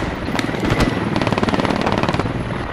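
Sustained automatic machine gun fire in the Squad military shooter, a rapid burst of closely spaced shots running steadily through, loud and near, with scattered single cracks early on.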